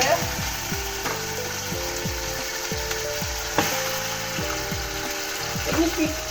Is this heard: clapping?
no